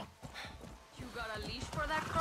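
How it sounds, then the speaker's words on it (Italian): Horse in the Far Cry 6 video game, with clip-clop hoofbeats and movement sounds rising under ongoing male speech, growing louder toward the end. "Prendiamo un cavallozzo."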